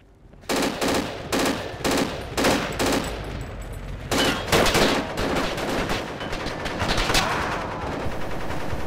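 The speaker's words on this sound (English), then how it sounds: "Gunshots, get out." Loud machine gun fire in the tactical shooter game Project Reality, with repeated bursts separated by brief pauses and then sustained automatic fire.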